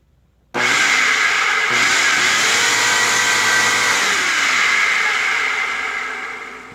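An upright Dirt Devil vacuum cleaner switches on abruptly and runs with its brush roll spinning, a loud close whine that holds steady and then begins to wind down, with no talking.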